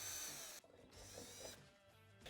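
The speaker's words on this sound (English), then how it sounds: "we're going to drill it out with our 3/16-inch drill bit" A power drill runs a 3/16-inch bit into the roof of a Polaris RZR XP 1000 UTV, a steady whine that drops at the break-through and then resumes in short close bursts.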